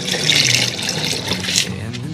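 Water pours and splashes steadily into chicken feed being mixed by hand, a close, continuous wet rushing with slight surges, with a faint voice in the background.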